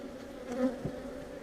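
Honeybees in a top bar hive give a steady, close buzzing hum that holds evenly throughout, with no voices over it.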